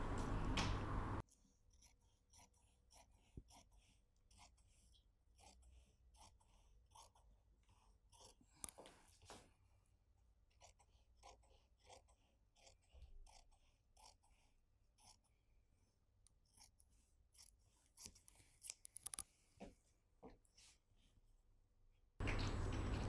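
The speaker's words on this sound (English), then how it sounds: "I'm cutting the lining for the front." Scissors snip through jacket lining fabric for a Chanel-style jacket, a steady run of faint, quiet crisp cuts with short pauses between bursts and no talking.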